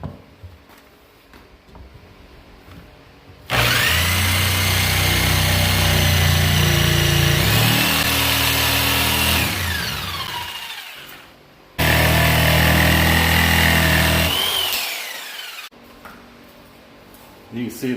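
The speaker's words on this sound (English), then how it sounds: "Next step, we'll cut that out." A loud power tool cuts out damaged wood on a broken plant stand leg in two long bursts, the motor rising and dropping in pitch as it bites, separated by a short pause.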